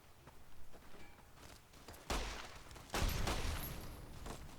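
Pistol shots in the video game Fallout New Vegas: quiet game ambience and faint footsteps, then two sharp, loud gunshots about a second apart, each followed by a lingering rumble.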